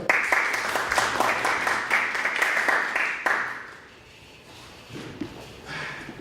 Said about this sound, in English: Please give a strong applause for Vera.